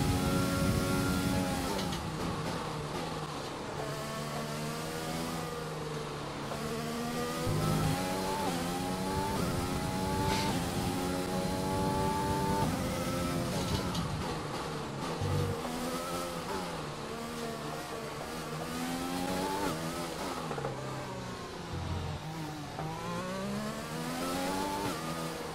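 An F1 race car engine from the racing game F1 2020 screams continuously throughout, with rising and falling revs through repeated gear shifts and downshifts, loud and close, with no talking.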